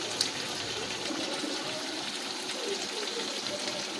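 Spice-rinse water is poured into a pot of chicken curry, giving a soft, steady trickling and splashing that stays faint and continuous in a home kitchen.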